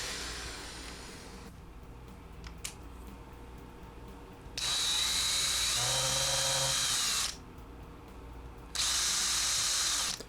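A power drill whirs through wood in two sustained bursts, high-pitched and close, separated by a quieter stretch of low background hum.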